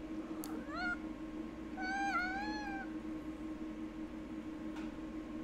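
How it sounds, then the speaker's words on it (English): A hungry house cat meows twice, one short call and then a longer wavering one, close by over a steady low hum. A faint click follows later. "Would you shut up, cat?"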